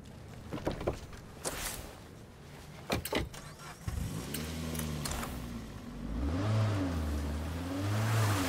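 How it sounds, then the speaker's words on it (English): A car engine in State of Decay 2 turns over and starts, then revs with rising and falling pitch over several seconds, fairly quiet, after a few sharp clunks like doors or gear being handled. "I thought this car would sound a lot faster than what it does."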